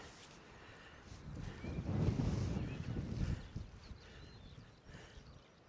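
Fishing boat engine heading out from Ventnor Harbour, a faint, distant low rumble that swells and fades against outdoor wind.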